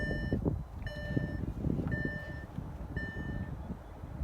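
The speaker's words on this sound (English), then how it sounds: "So that's the power tailgate working." An MG HS power tailgate operates with a regular series of four high electronic warning beeps about a second apart, heard over a steady low motor and outdoor rumble.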